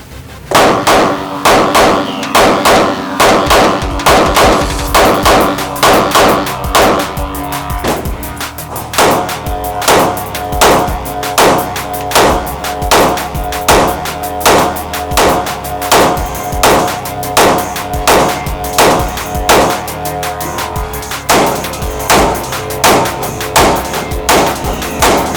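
A Springfield Hellcat Pro pistol fires a long string of sharp, loud, close gunshots in a steady rhythm, roughly one every second, with brief pauses between groups.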